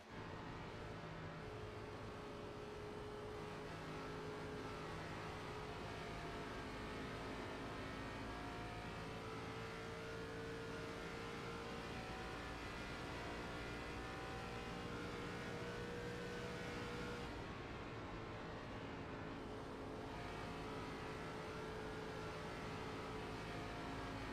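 Race car engine roaring steadily from inside the cockpit during an iRacing sim race at Chicagoland Speedway, a loud continuous drone with sustained whining tones and slight pitch shifts throughout.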